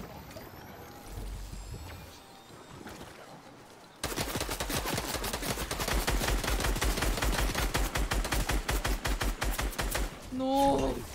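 Rapid automatic gunfire in the video game Fortnite, a loud, evenly spaced burst of many shots lasting several seconds after a quieter stretch, ending with a few tonal game effects.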